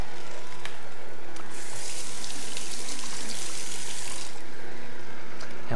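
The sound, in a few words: juicer re-juicing lemon pulp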